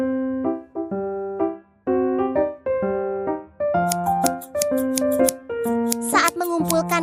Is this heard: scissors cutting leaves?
yes